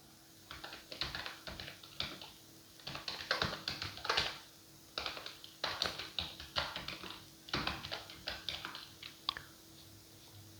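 Quick bursts of typing on a computer keyboard while writing an AI prompt, soft close key clicks in uneven clusters separated by short pauses, with no voice.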